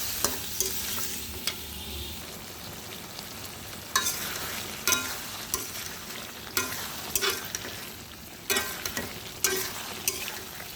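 Taro and pumpkin stir-fried in a spice masala, a soft continuous sizzle broken by repeated sharp spatula scrapes and knocks against the pan, fairly quiet with no voices.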